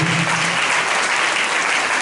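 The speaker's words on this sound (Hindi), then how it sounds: "परमेश्वर के प्रिय बेटे जोरदार यीशु मसीह के लिए ताली बजाएं।" A church congregation claps loudly for Jesus Christ, a dense, steady wash of many hands sustained throughout without a break.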